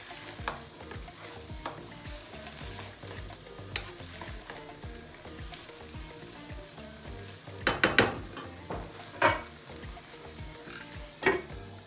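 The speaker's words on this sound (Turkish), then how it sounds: "Bunlar biraz kavrulacak." Vegetables with tomato sauce and pepper paste sizzle and roast in a pan, a steady soft frying hiss broken by a few louder scraping stirs near the end, with no talking.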